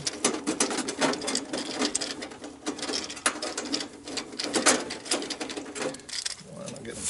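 Power screwdriver driving screws into a pool chlorinator main box, a dense, close whirring rattle in rapid bursts with short pauses between screws.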